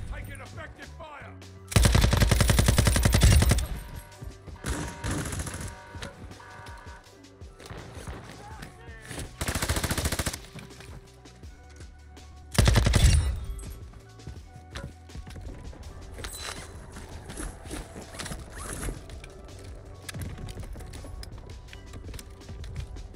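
Gunfire in the Call of Duty DMZ game comes in several loud sustained automatic bursts with quieter shots between them, while a player talks over parts of the action.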